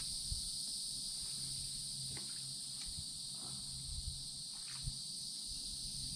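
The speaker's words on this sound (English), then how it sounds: "Are this cicadas? That sound?" Cicadas buzz beside a river during bass fishing, a steady, high-pitched insect drone that continues throughout, with faint rustling and small knocks close by.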